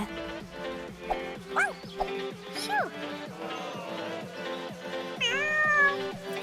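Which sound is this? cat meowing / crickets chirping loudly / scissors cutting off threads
cat meowing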